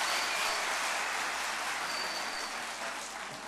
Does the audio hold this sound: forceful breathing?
no